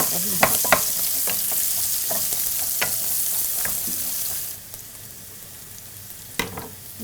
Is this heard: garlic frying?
yes